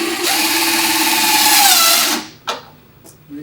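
A cordless power drill drives a screw through an awning mounting bracket in one loud, close burst of about two seconds, its whine shifting as the screw seats, followed by a few faint handling clicks.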